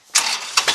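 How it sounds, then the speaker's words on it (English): A John Deere 790 tractor engine is started with a key: a short, loud burst of cranking and catching, with a few quick surges right after it fires. "we're going to warm the tractor up before we do that. So I'm going to get out a key here and warm it up."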